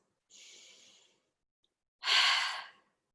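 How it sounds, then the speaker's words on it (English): Two deep breaths taken during a workout stretch: a softer, longer exhale followed by a louder, fuller sigh-like breath, close and alone with silence between them. "Take a few deep breaths."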